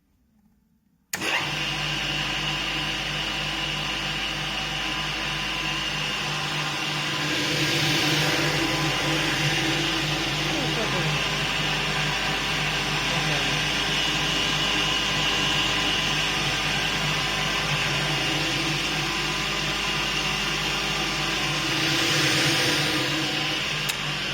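A homemade chaff cutter machine starts up after a brief silence and runs loud and steady, a continuous motor drone with a faint whine and slight swells in level, no voices over it.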